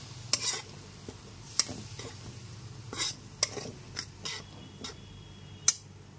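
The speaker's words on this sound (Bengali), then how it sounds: "গ্যাসের ফ্লেমটা লো টু মিডিয়ামে রেখে মশলাটা খুব ভালো মতো কষিয়ে নিচ্ছি।" Ground spices cook in a pan with a splash of water over a low-to-medium gas flame, a faint simmering hiss under a series of sharp spatula scrapes and taps against the pan, spaced irregularly about once a second.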